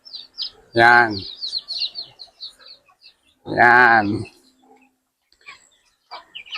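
Chicks and ducks on a small backyard farm, with faint high chirps and peeps scattered throughout, interrupted twice by a man's speech.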